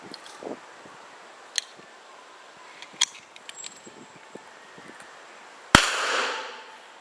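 A sharp crack from a CZ 97B .45-caliber pistol lands near the end, followed by a lingering rush of noise, with a few fainter clicks and taps scattered earlier.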